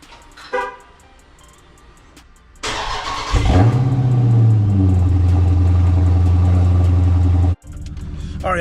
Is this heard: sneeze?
no